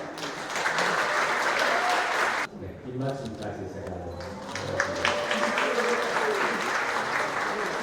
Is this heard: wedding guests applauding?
yes